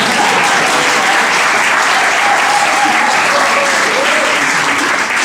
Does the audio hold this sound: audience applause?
yes